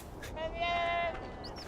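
A sheep bleating in the video game Beyond: Two Souls, a single quavering, slightly hoarse bleat of about half a second over a soft game ambience, with a faint voice nearby.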